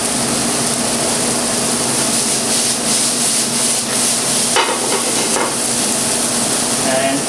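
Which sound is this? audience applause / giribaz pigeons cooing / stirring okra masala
stirring okra masala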